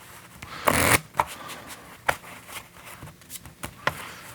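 Quick riffle shuffles of playing cards at blackjack: one loud burst early, then several shorter crisp card flutters spaced irregularly, close by with no talking.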